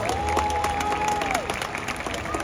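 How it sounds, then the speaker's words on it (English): Audience applause in the stands at a SeaWorld San Diego orca show, a steady wash of many hands clapping with a few whistles and a long sustained tone running over it, fairly close and full for the whole stretch. "please give a big round of applause for Ulises."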